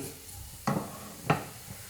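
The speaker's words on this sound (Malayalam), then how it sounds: "ഇപ്പം ഈ ഉള്ളി നന്നായിട്ട് മൂത്ത് വന്നിട്ടുണ്ട് അതോടൊപ്പം ഈ ചില്ലി ഫ്ലേക്സിൻ്റെ പച്ചമണം മാറിയിട്ടുമുണ്ട്" Shallots and chili flakes frying in a pan give a low steady sizzle, broken by two distinct scraping stirs of a spoon against the pan, close up and with no talking.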